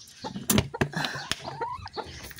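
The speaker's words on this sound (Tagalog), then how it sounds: "Ay, pasaway na mga manok." A few chickens clucking nearby in short, irregular bursts, with some scattered scuffing and tapping sounds.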